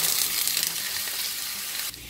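Peppers and onions hit a hot pan for a stir fry, giving a loud, close hiss of sizzling that drops off sharply near the end.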